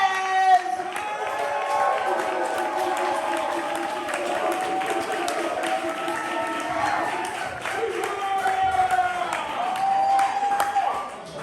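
A poetry slam audience keeps clapping and cheering between performers, a continuous roar of applause with whoops, while a host talks loudly over the noise.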